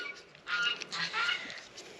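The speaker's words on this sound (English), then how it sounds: "I really hate geese. Every time you come out here to film a video, they have to get their freaking word in." Geese honk repeatedly in short, harsh bursts, a few loud calls overlapping at moderate distance outdoors.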